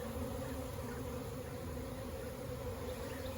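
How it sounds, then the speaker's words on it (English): Constant droning hum of a honeybee swarm on the ground, steady and fairly faint, with no other sounds. "we have a swarm on the ground"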